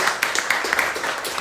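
An audience claps together in steady, continuous applause at an evening gathering on Spiritism, a short even burst of many hands.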